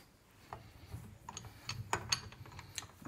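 Ratchet socket wrench with a 1½-inch AF socket tightening the hub nut on a Nuffield tractor's five-stud front wheel, giving a few quiet, irregular clicks over low workshop rumble.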